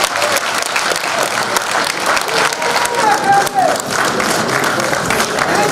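Crowd applause at a local election meeting where the same list of candidates is re-elected by acclamation, steady dense clapping throughout with brief voices mixed in.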